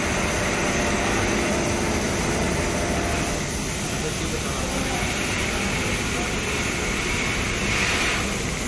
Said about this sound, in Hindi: ये है जनरेटर, ताकि बिजली की शॉर्टेज ना रहे इसमें